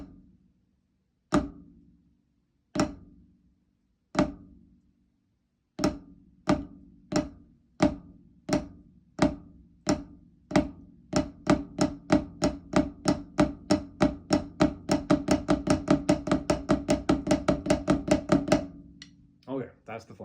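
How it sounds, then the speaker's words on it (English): Drum flams struck with sticks start as a few widely spaced grace-note hits, then speed up into a steady, accelerating stream of sharp, close double strokes before stopping abruptly. "Okay, that's the flam."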